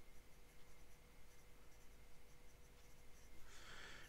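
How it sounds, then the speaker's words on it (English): Leonardo Momento Zero Grande fountain pen with a medium steel nib scratching softly on paper, with faint continuous strokes and a brighter burst of scratching near the end; very quiet and close, no voices. "I love how this writes with this ink"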